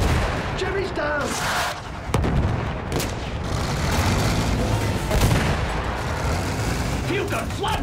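A field gun and rifle and machine gun fire in a World War I battle in Battlefield 1 keep up a loud, chaotic barrage of shots and heavy booms, with soldiers' voices shouting intermittently over the din.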